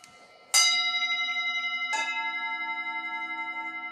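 Tibetan metal singing bowls are struck twice, each hit a bright close strike that blooms into long, shimmering, overlapping tones with a gentle beating pulse, ringing on alone in a quiet room.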